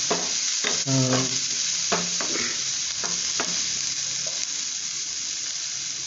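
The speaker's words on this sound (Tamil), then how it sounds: "நல்லா வதங்கட்டும் வெயிட் பண்ணுவோம் வாங்க வெங்காயம் கொஞ்சம் வதங்கிடுச்சு" Sliced onions and green chilies sautéing in a pan for a spinach stir-fry, a loud continuous sizzle with a few spatula scrapes and clanks early on, then an even frying hiss.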